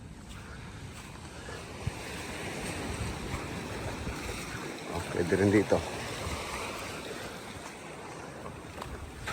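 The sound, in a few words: sea waves at the shore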